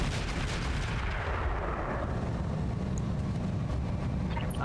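Mech weapons in the BattleTech video game pound a Warhammer mech, a dense, continuous roar of heavy artillery-like fire and blasts that stays loud throughout with no pauses.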